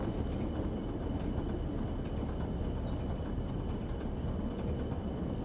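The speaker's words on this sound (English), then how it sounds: "The Woodhead Route Electrics, the Class 76 electric locomotives." Class 76 electric locomotive on the Woodhead Route running toward Manchester in Train Sim World 2, a steady low rumble of motors and rolling wheels with a thin constant whine above, even and unbroken throughout.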